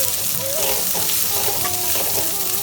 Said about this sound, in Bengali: পেঁয়াজটা একটু ভালো করে ভেজে দেবো।